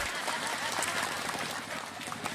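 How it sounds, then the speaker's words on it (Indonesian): A crowd at a Ramadan religious sermon breaks into sustained applause, a dense, steady clatter of clapping hands that fills the whole stretch at moderate volume. "Tepuk tangan maning ora apa-apa."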